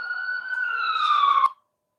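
An ambulance siren wails loudly and steadily nearby, its tones sliding slowly downward before cutting off abruptly after about a second and a half, followed by silence.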